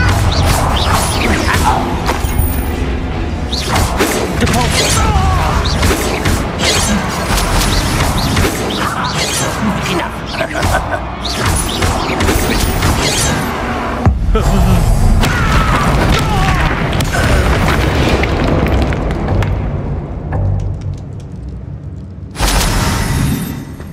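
Explosive Confringo spell blasts in the Hogwarts Legacy game, with loud booms and crashes over dense, continuous battle noise and shouted voices throughout.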